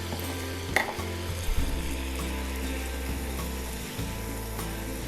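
A knob of garlic butter melting in a hot pan gives a steady crackling sizzle, close and continuous, with a few light clinks of utensils and no voices.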